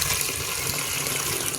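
Water pours steadily into a tank to make mud outdoors, a continuous close gushing splash with no pauses.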